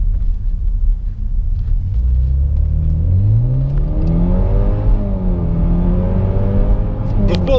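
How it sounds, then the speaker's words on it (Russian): A BMW 528i xDrive engine pulls hard under full throttle, its deep rumbling note climbing steadily in pitch as the car accelerates, loud and close throughout. "в пол жмешь, машина прям действительно вжимает"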